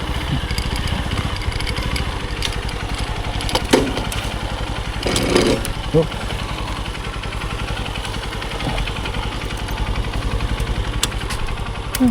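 A motorcycle engine runs steadily at night on a dark farm road, a continuous close mid-pitched drone with a few brief louder surges along the way.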